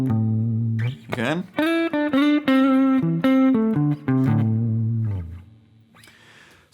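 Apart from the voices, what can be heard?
guitar playing minor pentatonic lick with slides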